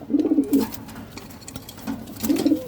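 Racing pigeons coo in a few soft, low, throaty bursts close by, with short pauses between calls and no voices.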